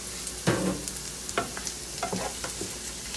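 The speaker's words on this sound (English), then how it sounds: "sauteing the carrots just a bit" Carrots sizzle in a hot pan with nutmeg, bay leaves and cinnamon, stirred now and then so the steady frying hiss breaks into short scraping bursts, close and clear with no talking.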